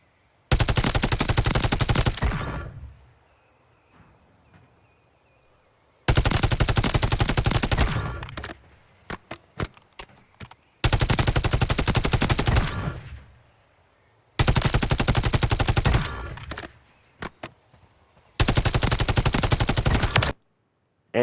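Long-range rifle fire from the Warzone 3 video game: five bursts of rapid automatic shots, each lasting about two seconds, with a few scattered single shots and quiet gaps between them, loud and close.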